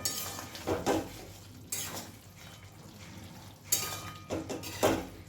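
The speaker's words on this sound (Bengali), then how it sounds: "ওপর থেকে দিয়ে দিলাম সামান্য একটু শুকনো আটা ভালো করে একটু মিশিয়ে নেব" Dry flour is stirred into a fish-head curry with ilish head and shola kochu in a pan, heard as a few scraping clinks of a spoon against the pan, faint and close, with no talk.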